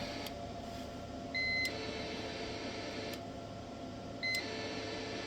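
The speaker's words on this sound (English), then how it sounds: "it's beeping because the radio is drawing so much power it's causing my UPS to bog down" Two short double-tone electronic beeps from a UPS overloaded by a ham radio transmitting at full carrier, a few seconds apart, over a steady hum of equipment noise.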